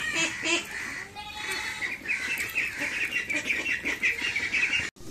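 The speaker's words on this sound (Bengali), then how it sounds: "হাঁস চলে আসছে খাওয়ার জন্যে।" Ducks quack and honk in a busy flock gathering to feed, calls overlapping continuously at close range with no pauses.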